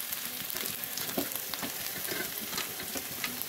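Carrots frying in two tablespoons of hot oil in a kadai, a steady close sizzle with soft stirring scrapes running throughout, no voices.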